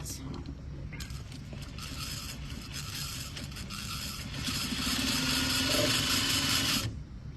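A sewing machine stitches a welt pocket, running in a continuous mechanical whir with quick rhythmic clatter that intensifies near the end before stopping abruptly, with a person speaking briefly near the start.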